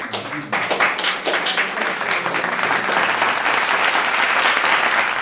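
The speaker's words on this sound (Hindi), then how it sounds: "फिर से एक बार जोरदार तालियां।" Sustained audience applause at a development summit welcome event, dense and steady after a brief quieter opening, filling the hall with many hands clapping.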